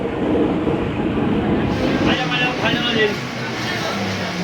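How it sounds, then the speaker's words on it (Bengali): A local train on the Sealdah to Taki Road line pulls away from a station with a continuous rumbling rail noise, fairly loud and close, while people talk nearby. "আপাতত আমাদের ট্রেন ছেড়ে দিল ঘোড়া রাস ঘোড়া থেকে"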